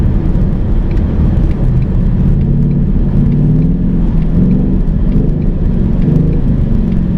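A 2018 Ford Mustang GT with a 10-speed transmission drives along, a loud, close engine rumble and road drone with rising and falling revs as it shifts down.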